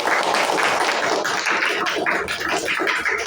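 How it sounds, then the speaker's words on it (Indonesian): A school class clapping hands together: a loud, dense patter of many close claps, sustained and steady for a few seconds. "Tepuk tangan untuk diri kita semua."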